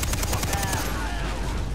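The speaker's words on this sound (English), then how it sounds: "Bring out the big gun." Sustained heavy gunfire from a big gun in the video game Far Cry 3, a dense continuous burst of rapid shots with a ringing tail, loud and close.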